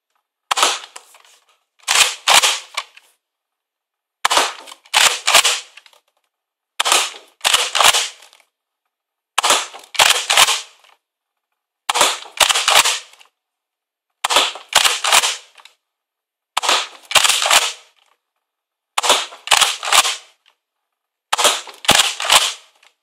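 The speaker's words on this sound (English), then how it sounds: "we will get the chronograph set up and throw the 12 shots across the chrono" A Nerf Elite Alpha Trooper blaster fires a dozen foam darts in close, loud bursts: sharp mechanical thwacks arriving in regular pairs roughly every two seconds, with silence between the shots.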